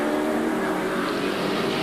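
A touring car thunders past during a 1982 AMSCAR race at Amaroo Park, a loud, continuous engine roar with broadband whoosh held across the short moment.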